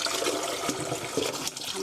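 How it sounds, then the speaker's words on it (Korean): Hot water is poured off freshly boiled noodles for soy sauce noodles, a short gushing, splashing stream that thins to a trickle and stops near the end. "이렇게 한번 여기에 받쳐 주시고요. 뜨거우니까 물 푸시고요."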